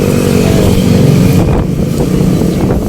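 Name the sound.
Skygo Monarch Axis 125 motorcycle being started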